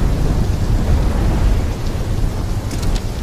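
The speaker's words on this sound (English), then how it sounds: "When the full force of the storm hits, we'll be looking at 150-mile-per-hour winds" A rumbling thunderstorm in the Call of Duty: Black Ops III video game, a loud continuous low roar of thunder and wind-driven rain with a few faint clicks near the end.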